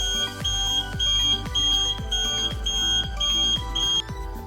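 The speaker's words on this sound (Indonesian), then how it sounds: "ketika kapasitas tong sampah penuh, maka tong sampah akan membunyikan alarm" An Arduino UNO smart trash bin sounds its full-capacity alarm: a loud electronic buzzer repeating in a fast, even pulse of about two beeps per second, alone and continuous.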